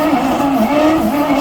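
Hot-wired 1972 Penn Yan boat engine held at full throttle, a loud steady roar with a wavering drone, close and continuous.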